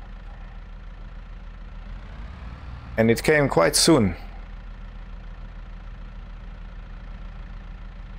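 A tractor engine in a farming video game idles with a steady low drone throughout, while a voice speaks briefly over it midway.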